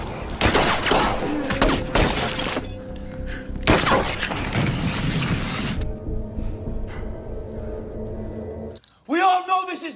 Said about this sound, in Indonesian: langsung melepaskan tembakan sebagai tanda perlawanan